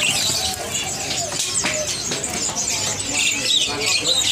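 Caged songbirds at a bird-market kiosk chirp and tweet in a busy overlapping chorus, with occasional cooing, while a person talks nearby over the steady bustle.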